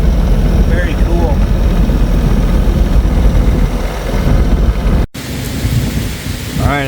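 A heavy rain downpour with thunder at a farm pond, a loud dense roar of rain throughout with low rumbling, and a voice briefly heard near the end.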